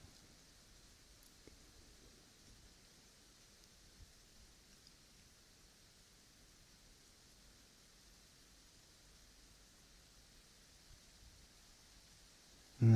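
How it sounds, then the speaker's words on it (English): Soft, steady rain falling outdoors, heard as a faint, even hiss that runs unbroken through a quiet space, with no voices over it. "The rain is beginning to fall again outside."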